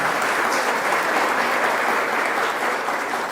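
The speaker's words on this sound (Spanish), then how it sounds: "Un aplauso para Juan Diego, que hoy vamos a bautizar" A church congregation applauds during a baptism, a dense, steady wash of many hands clapping at close range that holds at an even level throughout with no voices on top.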